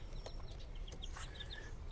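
Silkie chickens in a bonsai garden give soft, scattered clucks and short calls over a low, steady background rumble, with no one talking.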